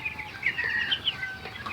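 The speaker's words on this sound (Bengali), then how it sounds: "এবার দেখুন মুরগিগুলা খুব স্বাচ্ছন্দ্য পানিগুলা খাচ্ছে" Broiler chickens on a poultry farm drinking from an automatic waterer, giving a brief run of close, overlapping high clucks and chirps over a low background hum.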